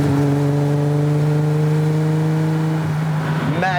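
Ferrari Daytona engine revving loud and close during a downshift, a steady throaty drone that blips sharply upward at the end.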